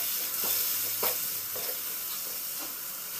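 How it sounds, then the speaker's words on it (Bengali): Dry spices stirred with a little water in a pan while making green chilli pickle, giving soft scraping and wet stirring strokes, close and steady for a few seconds with no talking. "এই শুকনো মশলাগুলি খুব ভালো করে মিশিয়ে নিচ্ছি।"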